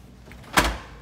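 A French door on a new twin-compressor refrigerator swings shut after minor adjustments, one quick soft thud with a brief whoosh, close and alone.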